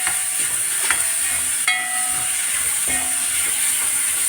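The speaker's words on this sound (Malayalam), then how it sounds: "ഇതിലേക്ക് നമ്മൾ നമ്മുടെ ചെറിയ ചെമ്മീനുണ്ടല്ലോ അത് ഇട്ട് കൊടുക്കാം കേട്ടോ കഴുകി വൃത്തിയാക്കി ഇട്ട് കൊടുക്കാം" Small cleaned prawns hit hot oil in a pan, giving a loud, steady hissing sizzle with a few faint clicks and pops throughout, close and uninterrupted.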